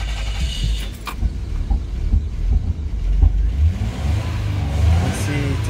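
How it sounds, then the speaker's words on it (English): A 2004 Toyota Avalon, recently suffering a crank-no-start fault from a bad ground, runs after starting, its engine humming steadily up close with some mechanical rattles and faint clinks over the low drone. "And you can see now the vehicle is running."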